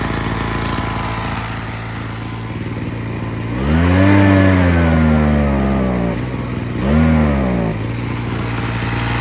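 A Wild Badger Power 43cc two-stroke backpack leaf blower engine runs loudly nearby, with a steady buzzing idle broken by two rising revs, one long and one short, before settling back.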